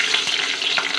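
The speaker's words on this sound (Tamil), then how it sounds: "பச்சை மிளகா வறுத்து எடுத்துடலாம்." Green chillies frying in a pan give off a steady, close, bright sizzle with faint crackles throughout.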